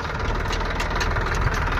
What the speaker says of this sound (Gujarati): જો સેજલ લઈને એને ટ્રેક્ટર